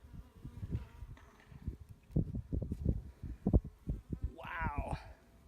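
Agitated honeybees buzz inside a beehive opened for spring cleaning, a busy, close drone mixed with knocks and scrapes as the honey-heavy frames are handled.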